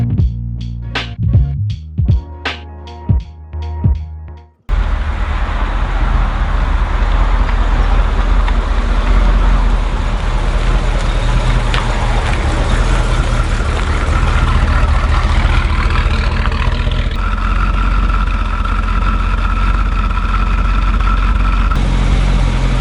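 A Ford Mustang Bullitt being driven, a loud steady low engine drone with road rumble that holds nearly unchanged for about eighteen seconds, preceded by a few seconds of brief sharp sounds.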